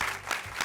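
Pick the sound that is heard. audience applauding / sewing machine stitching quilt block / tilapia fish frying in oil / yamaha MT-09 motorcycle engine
audience applauding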